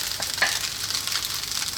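Chicken fried rice with mixed vegetables sizzles and crackles in a hot pan, with quick scraping stir strokes, close and steady for a brief moment.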